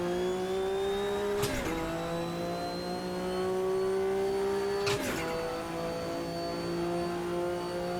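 Porsche Group C race car in Automobilista 2, a sustained high engine whine holding steady pitch with two sharp gear-shift breaks where the tone drops and climbs again, heard alone without talk.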